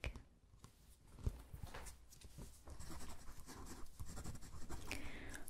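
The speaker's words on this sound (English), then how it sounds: "I can write you your prescription." Pen scratching across paper while writing out an eyeglass prescription during a quiet vision exam, soft irregular strokes close up with faint rustles and taps.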